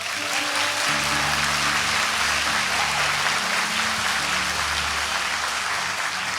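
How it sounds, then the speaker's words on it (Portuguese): A church congregation applauds steadily for several seconds, a dense wash of clapping over low sustained organ or keyboard tones, loud and continuous throughout. "Você pode aplaudir Jesus por isso?"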